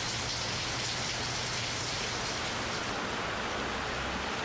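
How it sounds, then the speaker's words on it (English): A steady studio-plugin downpour: dense, even rain hiss with a constant patter of drops, heard alone and unchanging throughout. "That's more your gentle, just steady downpour."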